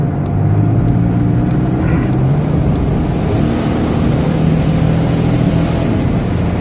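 A 2003 Dodge Caravan wheelchair van cruising on a highway at 70 mph, with a loud, steady cabin roar of engine, tire and road noise throughout and no speech.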